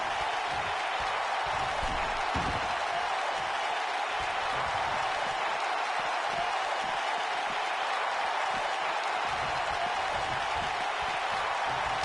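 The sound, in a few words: crowd cheering in the video game WWE 2K19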